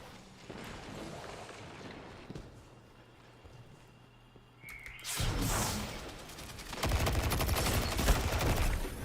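Rapid bursts of gunfire in the video game Destiny 2, loud and dense, swelling into heavier sustained volleys toward the end with faint talk and game sounds beneath.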